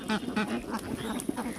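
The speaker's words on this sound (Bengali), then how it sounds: "এই যে দেখেন হাঁস খাবার খাচ্ছে" Farm ducks quack in short repeated bursts while eating feed, close by and fairly loud, with a few overlapping calls and light background noise.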